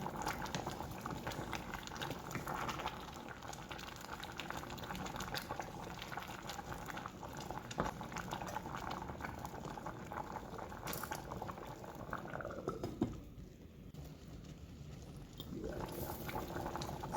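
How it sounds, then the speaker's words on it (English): A covered pot of Jamaican stew peas simmers with a soft, steady bubbling and gurgle, faint and close, with a brief clatter near the end. "So we're just gonna cover this and let it simmer for about an hour or so."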